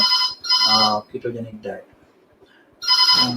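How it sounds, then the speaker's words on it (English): A telephone rings in two bursts, one at the start and one at the end, with a person speaking in the quiet stretch between the rings. "Please excuse the phone is ringing."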